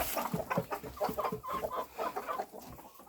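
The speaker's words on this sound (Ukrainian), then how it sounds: "Ця курка тут, що не вміє себе вести." A hen clucks repeatedly up close in quick, uneven bursts, with faint farmyard background.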